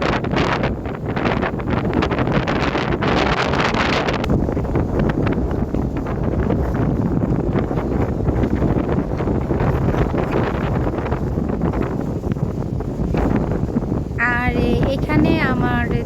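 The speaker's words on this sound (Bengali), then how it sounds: "আজকে আমি আপনাদেরকে বলেছিলাম বাতাসের শব্দ শোনাবো" Strong wind buffets the microphone in a loud, continuous roar, with a brief voice near the end.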